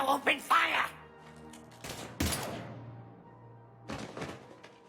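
Gunfire in the Mass Effect 3 video game comes as a few sharp bursts and thuds between spoken dialogue, separated by quieter stretches with a low hum.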